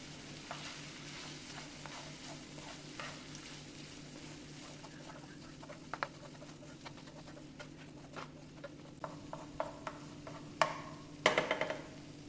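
Chopped capsicum, green chillies and coriander leaves sizzle softly in a pan while being stirred, with quiet continuous frying and a few small clinks and scrapes of the utensil near the end.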